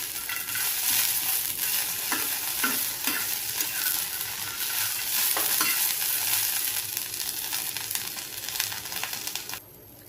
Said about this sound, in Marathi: आता मी थोडीशी कोथिंबीर टाकलेली आहे, तीही छान अशी परतून घेते